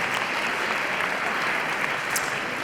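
An audience applauds at an inauguration event, a dense, even patter of many hands clapping without pause for a few seconds.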